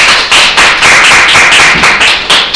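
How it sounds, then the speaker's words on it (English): A class of students claps for a classmate in a school classroom, loud and close, with fast, even claps for a couple of seconds. "Give her a round of applause."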